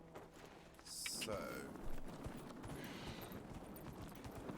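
Horse hooves in the video game Dragon Age Inquisition, a steady, muffled clip-clop of a trotting mount heard softly under game ambience, with a brief bright chime near the start.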